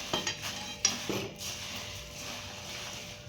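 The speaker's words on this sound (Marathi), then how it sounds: "आता यामध्ये आपण हे भाजून घेतलेले मुरमुरे टाकून घ्यायचे आणि एकसारखं हलवून घ्यायचं आहे" Roasted puffed rice is stirred into sugar syrup in a pan, with a few close metallic clinks and scrapes of a spoon early on over a soft, low sizzle.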